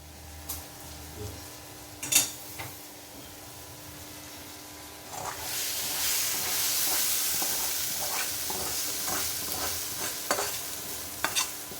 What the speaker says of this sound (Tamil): இப்போ நல்லா இதை சேர்த்து வச்சு வதக்கிடணும்